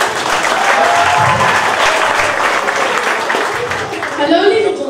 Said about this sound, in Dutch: Applaus voor Noëlle.